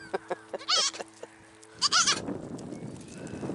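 Goats in a small goat yard give a few close, sharp bleats, then a burst of rustling and movement follows.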